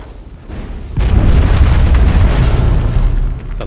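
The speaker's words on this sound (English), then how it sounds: "It's a loud-ass explosion." A loud in-game explosion blasts through a wall in Dragon Age: Origins, starting as a sudden deep boom and then rumbling on as a long, heavy roar that fades near the end.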